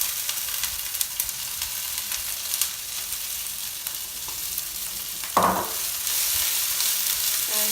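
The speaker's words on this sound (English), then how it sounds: "And then I put the sprouts inside." Brussels sprouts dropped into a pan of browning garlic hiss steadily, with a burst of louder sizzle as they hit the hot oil near the end, continuing as a close, even frying noise.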